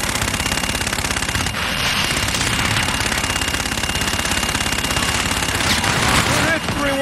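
Aircraft gun-run fire in the video game Call of Duty, heard as a loud, continuous stream of rapid automatic gunfire lasting several seconds, dense and unbroken, with no talk.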